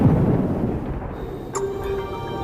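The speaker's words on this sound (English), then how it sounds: "thunder begins to reverberate around the airport" Thunder from an electric storm around an airport at night rolls in as a deep, heavy rumble that fades into quieter background noise.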